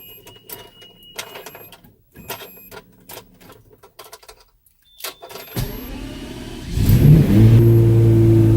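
Scattered clicks and mechanical noises give way to a Lamborghini Diablo engine starting up and idling with a deep, steady rumble that grows louder toward the end.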